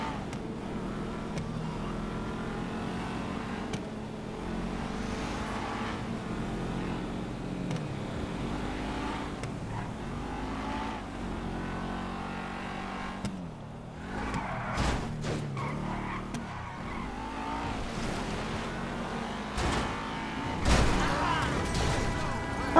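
Car driven hard in GTA Online on Xbox Series S, a continuous engine roar with tire skids and several crunching impacts and thuds, loudest near the end.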